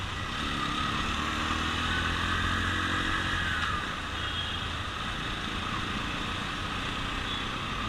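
A 2017 Bajaj Pulsar NS160 motorcycle ridden with one rider gives a steady, moderately loud engine drone mixed with wind rush, holding an even pitch throughout.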